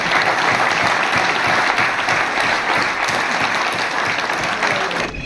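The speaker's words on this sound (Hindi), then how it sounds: "ताली बजा दे" Dense, steady applause fills a legislative assembly hall during a farmers' session with the Delhi chief minister, loud and continuous before cutting off abruptly at the end.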